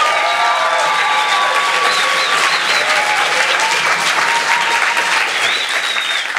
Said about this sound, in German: euren Applaus in 3, 2, 1,